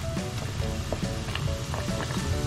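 Katori chaat dough cups fry in hot oil on a low flame, giving a steady, moderately quiet sizzle with small popping crackles throughout.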